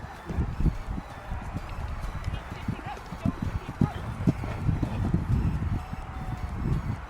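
A horse ridden over jumps in a riding lesson, its hooves striking the ground in a steady rhythmic clip-clop of repeated close thuds, with faint background noise and no clear speech.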